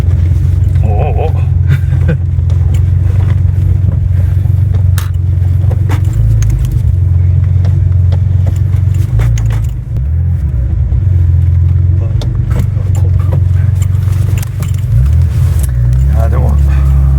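A Kremer Racing tuned Porsche 930 Turbo with an air-cooled flat-six drones loudly from inside the cabin, a steady low engine rumble that swells briefly under people talking.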